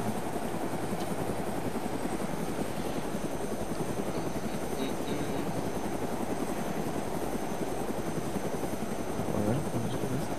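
A helicopter in the video game DayZ on the Namalsk map keeps up a steady, loud rotor chop and engine whine for ten seconds, close and constant with no breaks.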